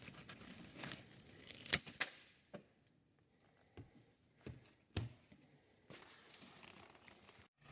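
Cutting an IKEA blind to size for a campervan window, heard as sharp tearing and crinkling snips, a louder burst early, then sparse separate cuts with quiet gaps, close and fairly faint.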